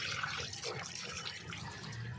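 Water is poured off finger millet during washing, a soft steady liquid trickle and slosh, close but fairly quiet and continuous.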